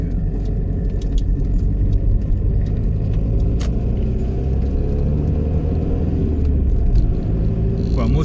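An Aston Martin drives with a steady, loud, low engine rumble and road noise heard from inside the car, constant throughout with small rattles.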